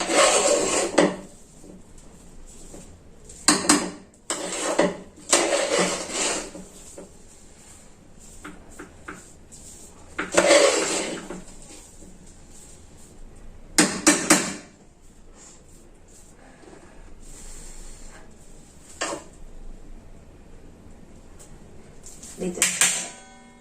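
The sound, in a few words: stirring vegetable pulao in a pressure cooker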